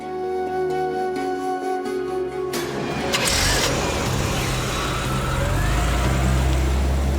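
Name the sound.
car driving away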